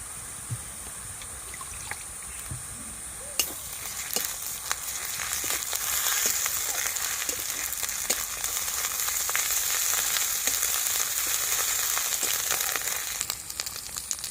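Ginger paste hitting hot oil in a pan, frying with a steady bright sizzle that swells louder after a few seconds and holds, with occasional small spatters and stirring clinks.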